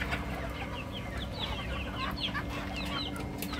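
Chickens cluck and chatter continuously in a farmyard after being let out of their coop, several birds calling at once at moderate distance over a steady background drone.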